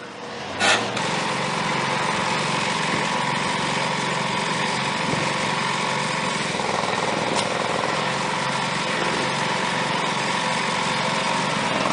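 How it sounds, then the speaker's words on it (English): A portable sandbagger's small engine runs steadily while filling bags with sand during flood control on the Red River in Fargo, North Dakota, a continuous loud drone with a brief knock near the start. "We got a portable sandbagger that's putting sand into the bags."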